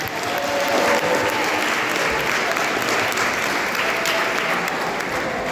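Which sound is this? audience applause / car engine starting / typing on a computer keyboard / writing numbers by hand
audience applause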